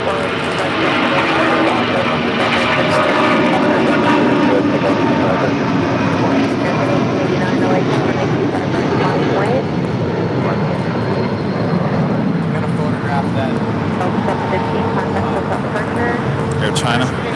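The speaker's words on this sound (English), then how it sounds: "This is Lufthansa Queen coming in from Frankfurt." A Lufthansa jet arriving from Frankfurt lands at LAX on the approach to runway 24 left. A loud, steady engine roar continues throughout, with voices talking over it.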